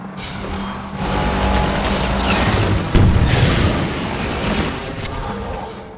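Gunship sound from Half-Life 2, a dense, roaring mechanical drone with crackling, sweeping high tones and a sharp burst near the middle, sustained loudly throughout without speech.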